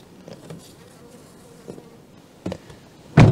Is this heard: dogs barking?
no